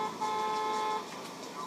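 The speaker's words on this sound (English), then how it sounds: "Who's honking at me?" A car horn sounds in the video game Need For Speed (2015), a steady honk running through the first second and easing off afterward, layered over a constant engine drone.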